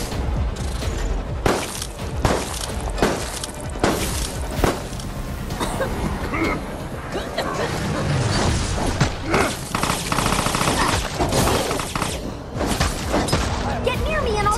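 Cannon blasts and gunfire in a chaotic video game battle, with dense, continuous booms, crackling shots and impacts layered over loud game sound and voices talking throughout.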